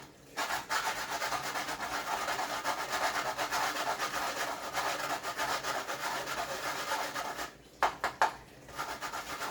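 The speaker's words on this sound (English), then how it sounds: "Get my grater" Nutmeg is grated on a hand grater for a Jamaican soursop drink, making steady close rasping strokes in a continuous rhythm with a brief pause near the end.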